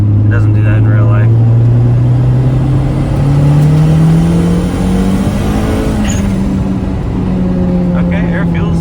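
Turbocharged Honda Civic (EG) pulling hard in third gear under boost, a loud, steady engine drone rising smoothly in pitch with faint turbo whine and road noise throughout.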